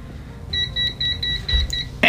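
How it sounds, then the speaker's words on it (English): A Parkside PDM300 C2 cheap digital multimeter sounds its high current alarm during a 500-volt test: a rapid run of about eight short, shrill, evenly spaced beeps, close and clear, ending in a sudden loud thump. "And we have that high current alarm."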